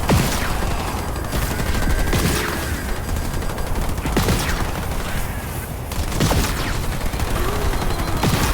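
Dense gunfire from enemy infantry in the video game Halo Wars 2, a steady layered fusillade of rapid shots and sharp bursts that runs loud and continuous throughout, with no talking.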